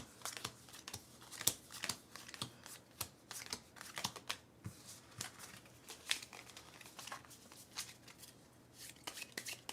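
A deck of unsleeved board game cards is shuffled by hand in quiet, soft bursts of riffling and crisp clicking that repeat in an uneven rhythm, faint and close.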